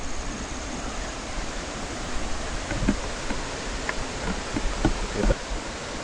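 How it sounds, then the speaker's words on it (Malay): Water at the Lata Ulu Kasar waterfall rushes in a steady, broad roar heard from some distance along a forest trail, with a few soft knocks and rustles over it. "dengar tak bunyi air tu?"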